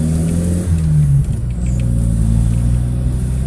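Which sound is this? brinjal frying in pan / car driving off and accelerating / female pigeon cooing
car driving off and accelerating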